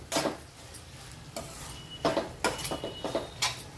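Ivy gourd (tindora) fry stirred in a pan, a series of short, close scraping and rustling spoon strokes over a faint sizzle, about six distinct strokes with no speech.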